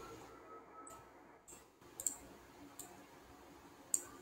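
Faint, sharp computer mouse clicks, a few scattered separately over quiet room tone during database work.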